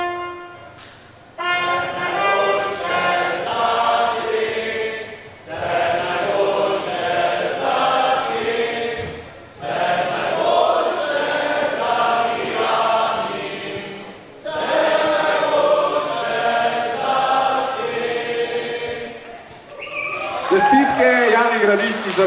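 Slovenian wind orchestra, the Prevalje wind band, playing Happy Birthday at an international wind orchestra gathering, a full sustained ensemble that swells over about twenty seconds with brief pauses between phrases.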